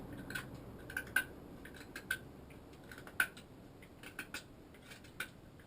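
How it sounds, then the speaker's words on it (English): A carving knife shaping a wooden hammer handle makes light, scattered ticks and scrapes, small irregular close-up clicks over a quiet background. "now we move from that to the carving knife"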